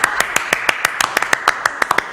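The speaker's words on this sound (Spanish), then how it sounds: "Un aplauso." Audience clapping at a Spanish political event, individual claps standing out crisply in an irregular, fairly sparse rhythm rather than a dense ovation, moderately loud and close.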